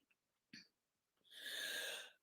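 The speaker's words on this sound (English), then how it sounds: "Sneeze. Sorry." A single person sneezes. A short breathy intake comes first, then one hissing, breathy burst lasting under a second, heard close but quietly in an otherwise silent room.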